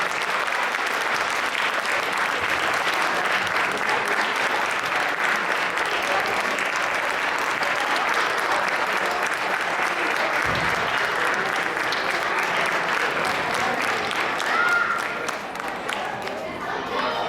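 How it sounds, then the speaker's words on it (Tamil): Sustained loud audience applause at a Tamil debate (patti mandram) annual meet as a judge is called to the stage, a dense continuous wash of clapping with faint crowd chatter underneath, lasting the whole stretch. "உங்களின் பலத்த கரகோஷத்தோடு நடுவர் அவர்களை மேடைக்கு அழைக்கிறேன்."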